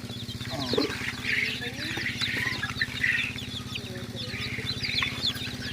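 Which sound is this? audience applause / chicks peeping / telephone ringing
chicks peeping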